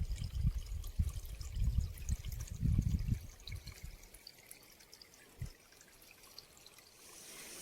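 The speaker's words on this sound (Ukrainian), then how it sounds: "Ось така водичка трохи." Small stream of water trickling among white stones and pink oleander on Chios, close and gurgling at first, then fading to a faint steady flow.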